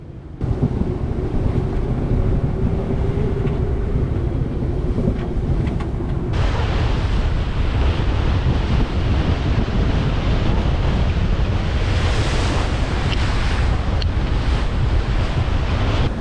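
Strong wind at sea roars steadily across the microphone, mixed with rushing waves and water noise, loud and continuous throughout.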